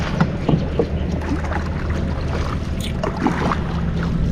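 Motorboats passing on open water during a fishing outing, heard as a steady broad wash of engine and water noise with wind buffeting, no clear individual pass standing out.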